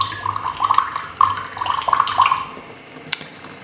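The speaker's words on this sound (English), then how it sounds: "I've been running the pump for a wee while just to flush through the carbon filters" Water rushing steadily from a reverse osmosis pump as it flushes through carbon filters, a continuous hissing splash at moderate loudness with no talking.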